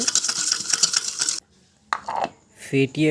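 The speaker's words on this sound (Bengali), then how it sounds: "তারপর কিছুক্ষণ ফেটিয়ে নেব।" Whisking milk and sugar together in a bowl for cold coffee, quick metallic clinking and scraping strokes against the bowl, then a pause and a few sharper taps, with a brief voice near the end.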